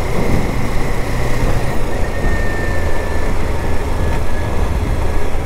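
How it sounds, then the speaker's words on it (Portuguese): A Kawasaki Ninja 400 motorcycle engine revs high in sixth gear at full throttle, a loud steady whine with a thin high tone running unbroken throughout, heavy wind rush over it. "Eu tô trabalhando com motor cheio e ela pede giro."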